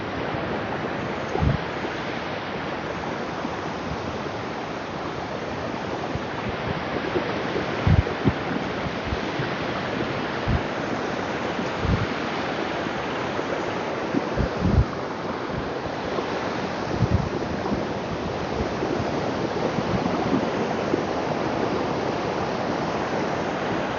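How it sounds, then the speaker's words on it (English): Ocean surf breaking on a shore at sunrise, a steady broadband roar of waves with occasional louder crashes and some wind buffeting the microphone, continuous and fairly close with no talking. "Can you hear the waves?"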